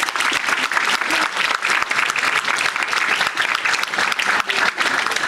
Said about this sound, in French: Je crois qu'on peut tous les applaudir.